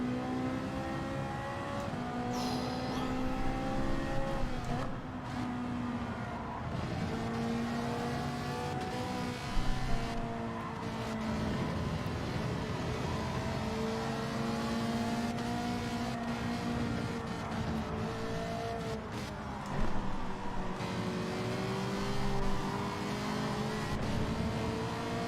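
A race car in Gran Turismo 7 howls along at speed, its engine loud and sustained, pitch sweeping up and down through shifts and engine braking, with a couple of sharp knocks or bumps along the way.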